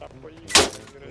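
A single loud, sharp gunshot from a video game bursts out briefly, surrounded by quiet background noise.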